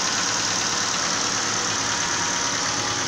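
Ford EcoSport engine running with a piston slap knock, a steady dense mechanical drone with a faint rapid ticking knock throughout, close and constant with no talking.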